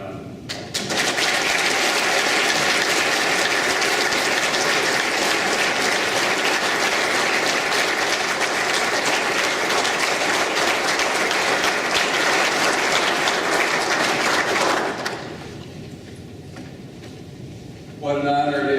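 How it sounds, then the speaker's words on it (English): Loud, sustained audience applause for veterans at a school district diploma presentation, a dense wall of clapping for about fifteen seconds that then drops away, leaving quieter room sound before a voice returns. "Join me in giving these men a round of applause."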